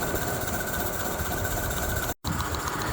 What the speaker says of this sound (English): After you open the throttle and the engine's running, you can close the cylinder cocks